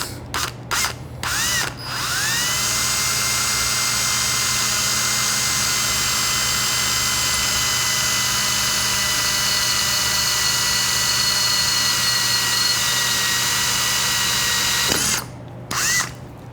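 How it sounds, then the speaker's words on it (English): A power drill with a number 9 (3/16-inch) bit whirs steadily at high speed for about thirteen seconds through a drill jig on a motorcycle part, close and loud, after a few short bursts and before brief clicks. "Now with a number 9 drill bit, or 3/16."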